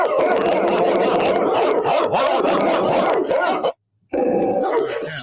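Several dogs bark and yip loudly and continuously in a dense, busy mix, with a brief drop to silence near the end before the barking resumes.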